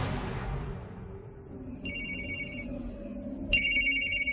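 A telephone rings in two short electronic bursts separated by a pause, fairly clear over a low room rumble with no voices.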